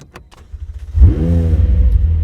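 A 2020 McLaren 720S Spider supercar starts up, its engine catching with a sudden loud burst that settles into a steady, rumbling idle, preceded by a few faint clicks.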